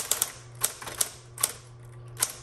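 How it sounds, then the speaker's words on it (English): Sharp, distinct keystrikes from a repainted 1960s Electra 120 manual typewriter, about seven clacks spaced irregularly over a steady low hum, close and fairly loud with no talking. "Okay, let's go ahead and keep typing."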